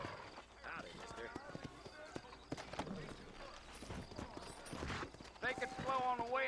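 Horse hooves clip-clopping in the Red Dead Redemption video game, a steady walking rhythm of hoofbeats in a town, heard under men's dialogue with a brief whinny near the end.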